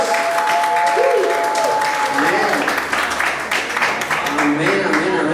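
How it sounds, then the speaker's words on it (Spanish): A church congregation applauds at an Easter resurrection service, broad clapping from many hands filling the space, loud and continuous, with voices calling out over it. "Denle un aplauso a Jesús."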